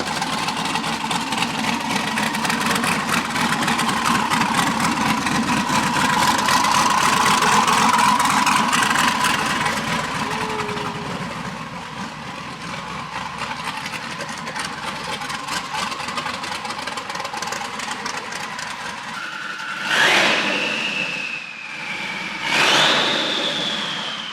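A stock 5.3 V8 from a 2004 Suburban fitted with twin turbos idles with a rough, steady rumble, swelling and easing, then two sharp revs blip near the end.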